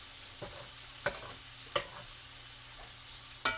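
Butter melting in a corner of a pan beside browned sausage, giving a faint, steady sizzle broken by a few sharp clicks and scrapes of a utensil against the pan.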